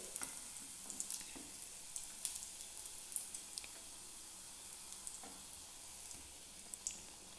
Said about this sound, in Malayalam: അപ്പോൾ നമുക്ക് ഇതിലോട്ട് ഡോണറ്റ് ഇട്ട് കൊടുക്കാം.